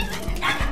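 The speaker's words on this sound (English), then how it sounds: "What kind of dog is that?" A fluffy pet dog lets out a short, close yip or bark, then a brief whimpering sound.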